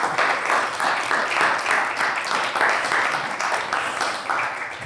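An audience at a celebration of 50 years of queer activism claps loudly and continuously, the dense applause swelling in gentle waves for several seconds.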